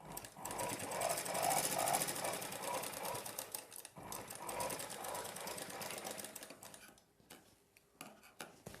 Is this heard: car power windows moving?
no